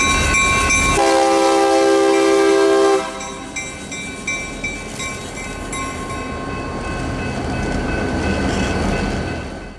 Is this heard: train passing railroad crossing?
yes